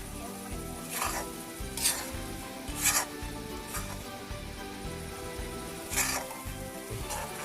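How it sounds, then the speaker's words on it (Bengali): Shrimp bhuna being stirred in a pan, with a spoon scraping the bottom in a steady rhythm of rasping strokes and periodic brighter scrapes over a low simmering sizzle. The sound is close and moderately quiet, with no talking. "কিছুক্ষণ পর পর নেড়ে নিতে হবে যাতে তলায় না লেগে যায়।"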